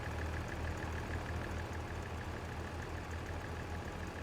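A tractor engine idling in Farming Simulator 22, a faint, steady low chug with a regular throbbing pulse that continues evenly on its own.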